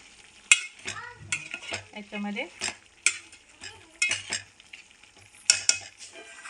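Spices for a mutton curry tempering sizzle in hot oil while a spoon stirs and scrapes the pan, with sharp bursts and clinks coming in uneven clusters close up, and someone speaking briefly over the cooking.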